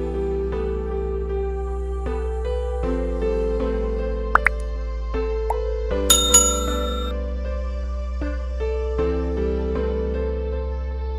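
A bright bell notification chime rings out a few quick times, sharp and close, over a sustained synthetic musical backing.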